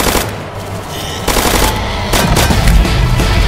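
Rapid automatic gunfire from a Roblox zombie game, a dense continuous burst of loud shots running throughout without pause.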